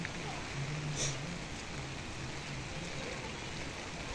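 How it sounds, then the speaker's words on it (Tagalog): Steady rain falls throughout, a dense even hiss with a few brief louder drips, while faint voices murmur underneath. "Ayan ang panahon ngayon. Umuulan."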